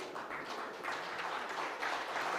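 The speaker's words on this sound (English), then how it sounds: "I would like you to clap really loudly" An audience clapping at a conference, a dense wash of many hands in a steady, moderately loud burst with no voices.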